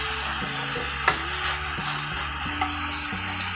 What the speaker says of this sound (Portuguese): Refogando aqui